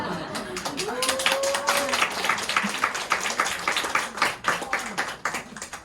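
Audience clapping at a business presentation, a dense, fairly loud burst of many hands with a voice speaking over the start and the applause rising and falling over several seconds.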